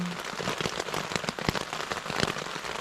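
Heavy rain drums on a tent during a solo camp in stormy weather, a dense, constant patter of close drops with scattered louder splats, steady and loud throughout with no voices.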